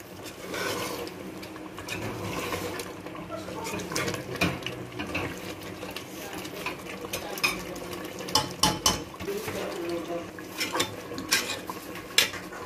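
Masala for achar gosht with yogurt fries and is stirred in a pan, a spoon scraping and clinking against metal in repeated strokes over a low sizzle, close and fairly loud.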